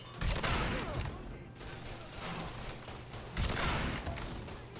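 Gunfire in the video game Mafia 3 during a defense at an iron and metal yard: two loud bursts of shots near the start and again past the middle, over a steady rumbling background with no talk.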